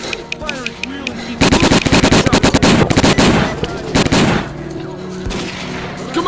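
Rapid automatic gunfire in S.T.A.L.K.E.R.: Call of Pripyat on PlayStation, a fight against Monolith fighters, with dense bursts of loud shots crowding the middle of the clip and lighter scattered shots before and after.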